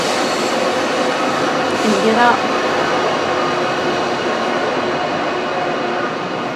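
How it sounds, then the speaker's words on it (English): A freight train rolls past close by along a residential rail line, a steady, loud, broad rumble and rattle that holds throughout with little change, while a voice speaks briefly over it near the start. "I live right along the train line here, and we get freight trains."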